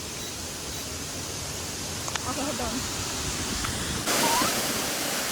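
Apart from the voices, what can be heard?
waterfall in Bali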